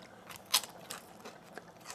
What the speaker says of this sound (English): We have the skin of the chicken. As you can see here, those are really crunchy.